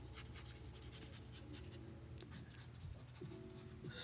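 Markers scratching and scrubbing steadily across paper in short repeated strokes, quiet and close, with no talk.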